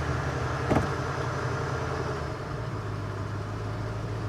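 A 1981 Lincoln Continental Mark VI engine idles steadily with a low, even hum and faint rattle, close by, with no talking.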